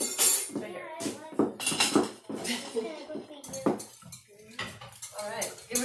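A spoon stirs a mix in a bowl during a children's library storytime, with light clinks and scrapes under near, continuous talk.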